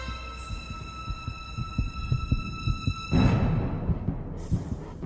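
Rhythmic, low thumping heartbeat pulses under a sustained musical hum, with a swelling noisy surge partway through.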